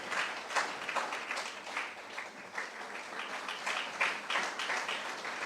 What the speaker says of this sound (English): It should be resonating with your claps.